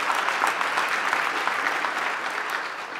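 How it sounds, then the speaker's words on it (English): An audience at an education summit award presentation gives a sustained round of applause, with dense even clapping from a large crowd filling the hall throughout. "that's a round of applause"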